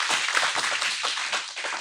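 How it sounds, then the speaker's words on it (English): Audience giving a round of applause, a brief burst of close, crisp clapping from a small group, steady throughout and fading slightly at the end. "Give them a round of applause, though."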